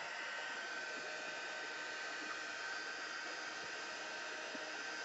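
A heat tool blows steadily to dry permanent ink on a sand dollar watercolor painting, a constant, even airflow hiss held at one level from start to finish with no talk.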